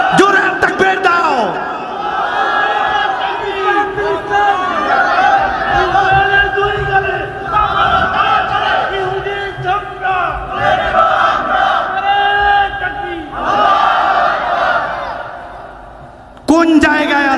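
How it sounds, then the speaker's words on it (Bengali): A large crowd at a religious gathering roars a loud, sustained takbir chant in unison, with rising and falling collective shouts filling the space for many seconds. "দুই হাত তুলে দেখায় দাও, জোরে তাকবীর দাও।"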